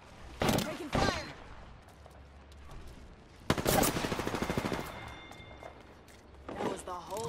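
Bursts of rapid automatic gunfire in a video game shootout, with loud rattling volleys coming in separate spurts and voices calling out between them.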